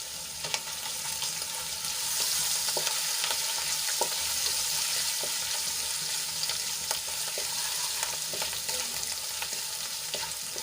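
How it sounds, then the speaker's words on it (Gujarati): Crushed ginger, green chillies and sesame seeds sauté in oil in a pan for a potato fasting dish. An even, crackling sizzle runs throughout, broken by frequent small clicks and pops from stirring. "તો બધું સરસ રીતે સાંતળી લઈશું।"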